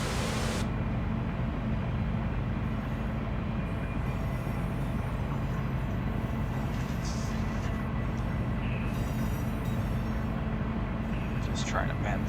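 A simulated freight train rolling along track in the Run 8 train simulator game, a dense continuous rumble and hiss of wheels and engine throughout, with someone talking over it.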